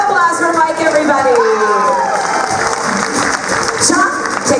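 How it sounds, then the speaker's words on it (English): An audience at a Fear Factor Live show applauds a contestant, a dense, steady wash of clapping and crowd noise that lasts throughout, with a voice carrying over it. "Big round of applause for Mike, everybody."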